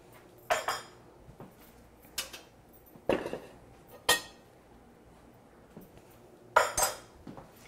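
Cabbage is added by hand to a pot of liquid brought almost to a boil, with scattered clinks and clatters of metal and dishes, sharp isolated knocks between quiet stretches, and no talk.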